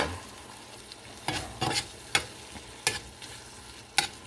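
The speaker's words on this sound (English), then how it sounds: "You're just gonna brown the meat." Ground beef browning in a pan over medium-high heat, a steady soft sizzle broken by five or six sharp scraping stirs at irregular intervals, close and fairly quiet with no talking.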